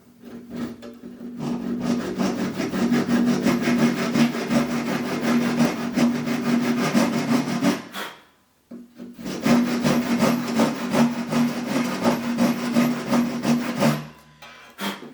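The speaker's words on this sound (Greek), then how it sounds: "Κόβω λοιπόν λίγο από τη μία, το γυρίζω και πάω από την άλλη." A handsaw cutting a piece of wood along a marked line, with steady loud rasping strokes close by, a brief pause near the middle, then more even back-and-forth sawing.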